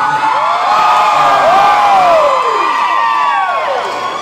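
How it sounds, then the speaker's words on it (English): A large race-track crowd at Richmond roars and whoops, loud and sustained, with many overlapping voices rising and falling in pitch for several seconds before the noise starts to fade. "As I look out in the crowd, I can tell a few of y'all cheer for him."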